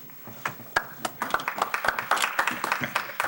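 An audience at a town Board of Selectmen meeting applauds an honoree, a room of hands clapping in a brisk, scattered patter that quickly builds and holds at a moderate level.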